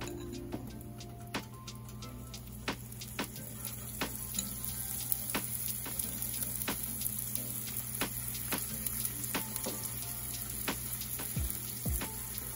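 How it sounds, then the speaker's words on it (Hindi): A potato paratha frying in oil on a tawa: a quiet, steady sizzle with regular sharp pops and crackles spaced through it, heard close and alone. "ये हमारा आलू का पराठा जा रहा है तवे पे। तो आप थोड़ा सा तेल डाल दें।"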